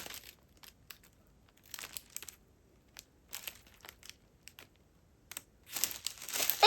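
Tissue paper from an unboxing crinkles and rustles in short, scattered bursts, quiet and close, growing into a louder, denser crumple near the end.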